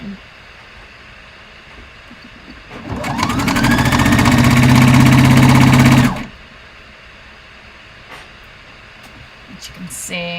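A sewing machine runs in one continuous burst of about three seconds, stitching a seam on fabric for a playsuit. The motor hum is loud and close, with quiet room sounds before and after.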